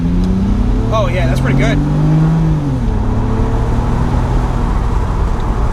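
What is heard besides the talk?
BMW Z3 accelerating hard in first gear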